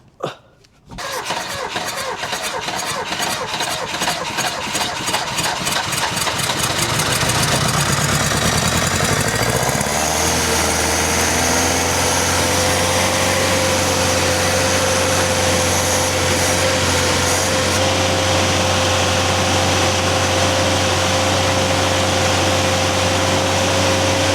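An old Ford engine, unstarted for 40 years, cranks in rapid bursts and then fires, running loud and continuous with a rough, shaky rhythm before settling into a steady idle, close by and without talk.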